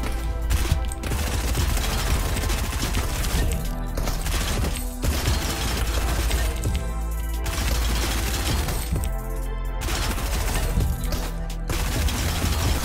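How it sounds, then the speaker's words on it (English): Close-range SMG spray in a shooter video game, with rapid continuous bursts of gunfire filling the whole stretch at steady loudness, broken by a few brief pauses, with no talk. "Here we have close range SMG spray."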